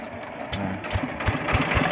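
An engine-driven water pump on a farm, used to pull a long hose from a thousand-litre tank of fermented mix, starting up and chugging with a rhythmic knocking idle close by.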